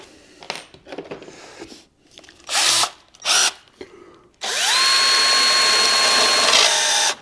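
A power drill drilling into a circuit board whirs in a few short bursts, then runs steadily at high pitch for several seconds, close and loud.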